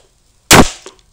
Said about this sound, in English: We're gonna hit the speaker now.